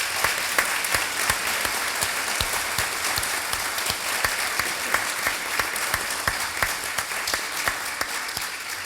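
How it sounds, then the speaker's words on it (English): Steady clapping from an audience honouring panelists at a Cornell wildlife health event, a dense even patter that holds at moderate loudness throughout with no talk over it. "So a round of applause for them."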